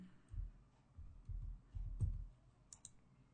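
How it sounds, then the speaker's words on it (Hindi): A username is typed on a computer keyboard, heard as quiet, close clusters of soft key clicks in short bursts, with a couple of sharper taps near the end. "मैं टाइप कर देता हूँ अपना यूज़र नेम"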